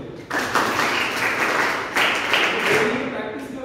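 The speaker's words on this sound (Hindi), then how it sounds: "चुगलू तालियां बजाओ" A seated audience at a talk on self-reliance bursts into loud, close clapping that swells again midway and then thins toward the end, with some voices mixed in.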